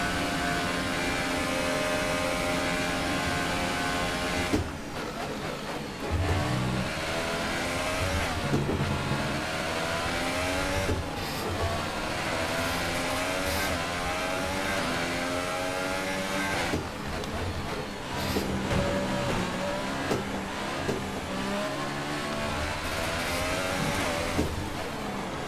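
Formula 1 car engine at Belgium's Spa circuit in the racing game F1 2018, a loud continuous high-pitched whine rising and falling with repeated gear shifts and acceleration, with no talk over it.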